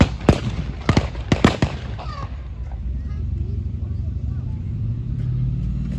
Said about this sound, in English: the Germans have sprung the ambush, and it's developing into a bit of a firefight